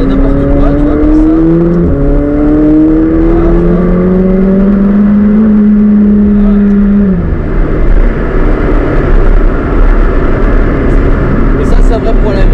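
A McLaren 765LT sports car accelerating hard, heard close from inside: a loud engine note climbs in pitch through gear changes for several seconds, then settles into a broad roaring rush of road and wind noise.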